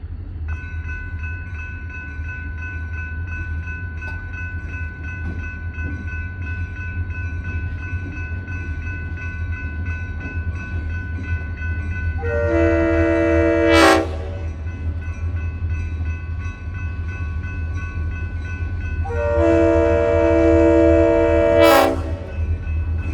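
A DeQueen and Eastern GP40-2 diesel locomotive rumbles toward a railroad crossing in Valiant, Oklahoma, sounding two loud, long horn blasts over a steady engine drone and wheel noise, with crossing bells faintly behind.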